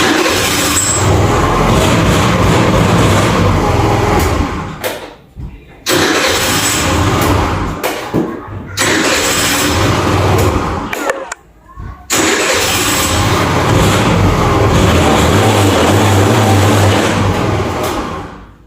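A Bluebird 50cc moped engine with a faulty piston, running loud and close in steady stretches broken by brief cutouts, rough and buzzy throughout with no talk over it.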